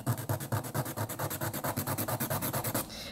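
A nail file rasps back and forth across a cracked fingernail in about fifteen quick, even strokes, close and fairly soft, with no talking.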